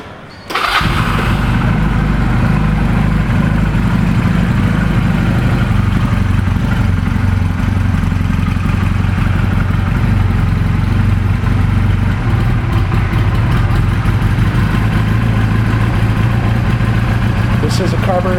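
A carbureted 2008 Honda CMX250 Rebel motorcycle cranks and fires, then idles steadily and loudly up close while warming up on choke, with someone talking over the running engine.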